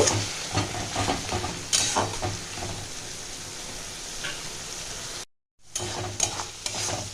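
Mutton with potato and papaya sizzles and crackles in a hot pan, stirred with repeated spatula scrapes and clinks, loud and close, broken by a brief silent gap before the frying resumes.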